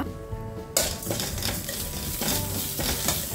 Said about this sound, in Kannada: 1 ಸ್ಪೂನು ಉದ್ದಿನಬೇಳೆ, 1 ಸ್ಪೂನು ಜೀರಿಗೆ, 1/4 ಸ್ಪೂನು ಮೆಂತೆ, ಸ್ವಲ್ಪ ಕರಿಬೇವು ಸೊಪ್ಪು ಹಾಕಿ ನಾವೀಗ ಫ್ರೈ ಮಾಡುವ